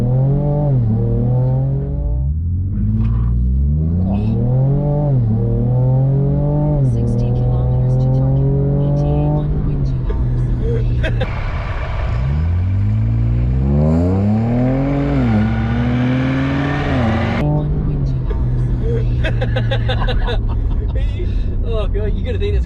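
A twin-turbo V6 Ford Raptor with an upgraded intercooler and exhaust, loaded with five people, accelerates hard on a test run, its engine note rising repeatedly through the gears, loud and close. Voices talk over the engine throughout.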